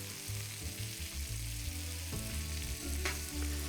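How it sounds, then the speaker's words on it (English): Butter sizzling in a hot pan with hen of the woods mushrooms, a steady, soft frying hiss with faint low rumble, close but quiet and heard alone without talk. "we're going to start adding some butter"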